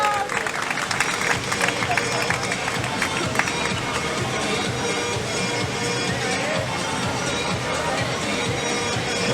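Crowd at the finish of a trail race applauding runners as they come in, a continuous spread of clapping and cheering mixed with babble, while an announcer talks over it.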